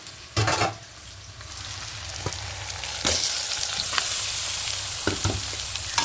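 Chicken dropped into a pan of onion and spice paste for a potato and spinach chicken curry, sizzling and frying steadily with a few scraping stirs along the way.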